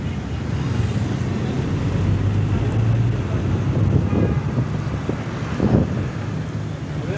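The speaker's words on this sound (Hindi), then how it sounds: "अभी आने वाली एक क्लिप में आपको जो वो बारिश का साउंड सुनाऊंगी, तो आप लोगों ने वो ज़रूर सुनना।" Heavy rain pours steadily in Karachi at the start of the summer's first rainfall, a dense continuous wash of noise with low rumbling beneath and a couple of brief louder swells, no voices standing out.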